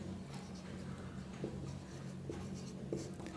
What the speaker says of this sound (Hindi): एक और उदाहरण लिख देते हैं